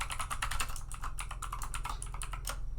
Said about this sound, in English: You have to type in capital A RC capital G UI conda